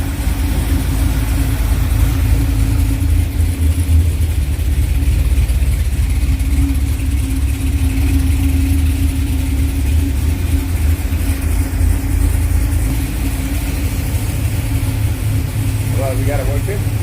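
A Chevrolet Corvette C6 Z06 with its LS7 V8 runs at a steady idle after a starter replacement, giving a close, continuous low rumble that holds evenly for the whole stretch.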